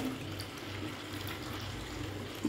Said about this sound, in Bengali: আমার মনে হয় একটু জলটা বাড়াতে হবে